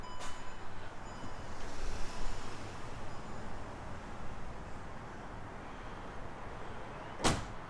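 A garage door moves after its button is pressed, giving a steady broad mechanical rumble for several seconds that ends with a sharp clunk near the end, with no talking.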